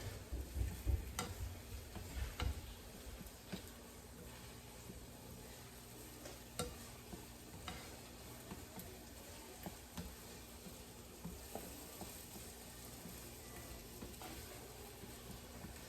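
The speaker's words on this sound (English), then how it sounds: "And these are cherry tomatoes, and let them cook there just like that." Cherry tomatoes and onion cook gently over low heat in a pan, a soft, continuous sizzle with intermittent light clicks and scrapes of stirring, close by and quiet, with no voices.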